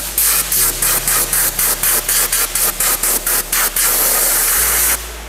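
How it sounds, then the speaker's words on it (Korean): A compressed-air gun blasts air into the gaps of a car's plastic exterior trim, bumper and garnish, in loud, close, rapid repeated bursts that merge into one sustained hiss before cutting off. "지금 틈새로 들어간 거는 에어건을 이용해서 좀 뿌려 줄게요"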